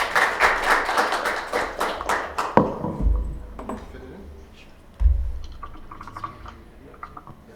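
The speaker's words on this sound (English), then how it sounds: "give a big round of applause to Brian" Audience at a Hack Fukuoka tech meetup clapping for a presenter, a scattered round of hand claps that thins out into sparse claps and small knocks and thuds, with faint murmuring in the room.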